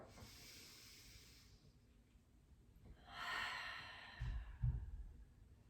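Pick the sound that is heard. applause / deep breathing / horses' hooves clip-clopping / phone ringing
deep breathing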